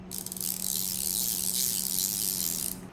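The body of a small electric screwdriver from a 24-bit driver kit spins freely, giving one continuous, close, high whir for nearly three seconds over a low steady hum.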